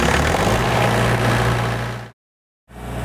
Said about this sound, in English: Okay, so I've got my engine running.